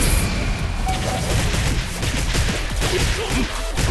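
Clone great explosion jutsu going off in Naruto Mobile, a dense, sustained blast of booming, crackling detonations that stays loud for several seconds with rumbling low end and no pauses.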